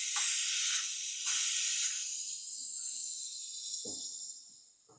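Air hisses steadily out of a vacuum chamber as its valve is released, loud at first and tapering off over several seconds, with a few small clicks and handling knocks near the end.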